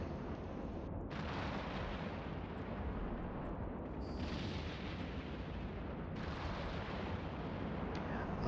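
Rockets from several launchers explode in the EVE Online space game, a dense continuous rumble of overlapping blasts and booms that stays loud and steady throughout, with no voices.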